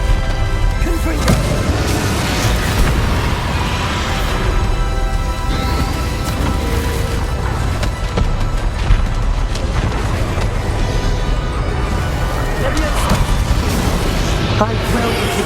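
The Confringo spell fires in Hogwarts Legacy during the final battle against Ranrok, a dense, continuous wash of fiery blasts, crashes and booming impacts layered with loud game music and effects.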